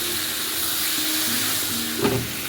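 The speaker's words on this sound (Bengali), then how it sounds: "পটলগুলো দিয়ে দিলাম, পটল আর আলু একসাথে ভেজে নেবো" Pointed gourd and potato frying together in hot oil, a loud continuous sizzle with a faint hum and a brief scrape near the end.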